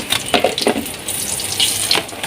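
Oil sizzles and crackles steadily with irregular pops and bursts as fish fries, close up, with no voices.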